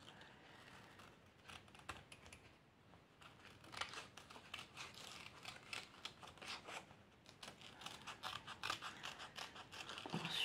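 Scissors snip through paper for scrapbooking, a close, quiet series of rapid crisp cuts mixed with faint paper rustling and crinkling, with no talking.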